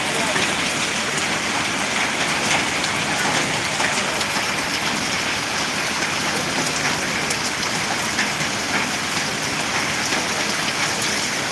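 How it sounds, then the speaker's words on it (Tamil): Steady rain falls in Ariyalur, a dense, even hiss of drops on surfaces that holds at a constant, fairly loud level from start to finish without any break. "ரொம்ப நாள் கழிச்சு மழை பெஞ்சிகிட்ருக்கு"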